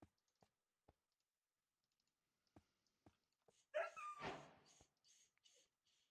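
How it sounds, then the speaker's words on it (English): Dog whining and whimpering in a video game set in a garden, a cluster of yelping, whimpering cries in the middle after several soft clicks, moderately close and alone without talk. "I like that that dog is whining."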